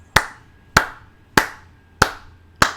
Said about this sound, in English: Want to applaud that cat.